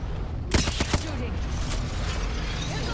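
Gunfire in the video game Apex Legends, a quick burst of several sharp shots near the start, then a noisy, busy game soundscape.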